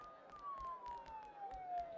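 A siren in the video game Persona 4 Golden wails in one long, slowly falling tone across the whole two seconds, quiet and steady beneath faint clicks and muffled talk.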